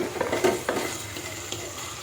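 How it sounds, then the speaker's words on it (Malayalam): Crab curry masala sautéing over a low flame in a clay curry pot, stirred with a few scraping strokes over a soft, steady sizzle, close and fairly quiet. "ഇടയ്ക്ക് ഇളക്കി കൊടുക്കണം."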